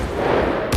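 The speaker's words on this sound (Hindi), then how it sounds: "किस्सा ख्वानी बाजार में पुलिस ने इस समूह पर खुलेआम गोली चला दी" A gunfire sound effect portrays police opening fire on a crowd of nonviolent protesters in Peshawar's Qissa Khwani Bazaar: a loud, dense roar of shooting that swells into a sharp burst at the end.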